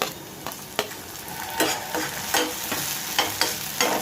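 Onions and green chillies fry in a pan for chicken keema dosa, with a steady sizzle under repeated scraping strokes of a spoon stirring close by.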